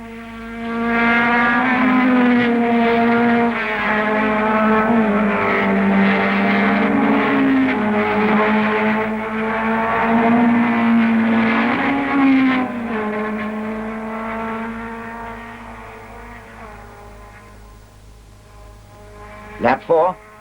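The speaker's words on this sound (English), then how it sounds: "Lap 4, and Hill moves the BRM up to third" 1961 racing cars, among them a BRM, lap a BRSCC circuit, a loud sustained engine drone that rises and falls in pitch as they pass, easing away near the end before two sharp bursts of noise.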